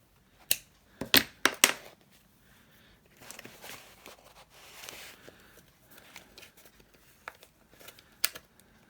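Scissors snip excess thread after a bookbinding stitch through a signature of a handmade Christmas notes book, a few sharp close cuts early on, then softer rustling and handling noises.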